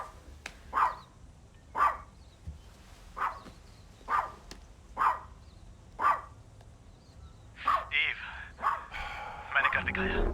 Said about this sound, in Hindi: भौंकना बंद करो बिकी